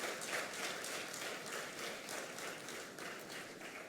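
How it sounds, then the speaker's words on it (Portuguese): A standing church congregation applauds in praise during a worship service, steady crowded clapping that pulses slightly and holds at an even level throughout. "Eu quero te convidar para você dar uma salva de palmas para o Senhor Jesus."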